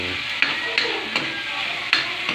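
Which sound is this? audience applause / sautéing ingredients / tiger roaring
sautéing ingredients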